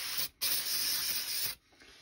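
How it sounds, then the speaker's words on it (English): Motor cleaner sprays in two steady hissing bursts onto the balls of a 1:10 scale RC ball differential, close and fairly loud, with a brief pause between the bursts. "You get motor spray and just..."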